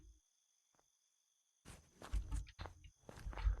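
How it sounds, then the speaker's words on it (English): Footsteps of a player moving nearby in the survival shooter Unturned, a quick run of soft, close steps arriving after near silence and continuing in uneven bursts. "Oh, I hear footsteps."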